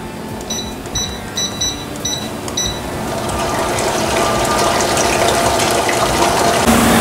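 Fresh cream with granulated sugar and mascarpone is whipped in a bowl: a few short clicking, rattling taps first, then a steady, close whirring that grows slightly louder.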